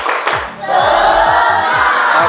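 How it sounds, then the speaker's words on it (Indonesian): A class of 9A students doing the rhythmic tepuk semangat spirit clap, with a sharp loud opening clap followed by a sustained group shout and cheer, close and energetic. "Oke, tepuk semangat!"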